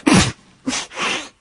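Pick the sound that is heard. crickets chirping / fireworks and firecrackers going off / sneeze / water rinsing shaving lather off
sneeze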